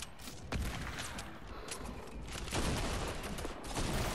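Rapid gunfire bursts in a Fortnite match, with dense clattering shots crowding together into a loud, continuous fusillade that swells toward the end, heard alone without talk.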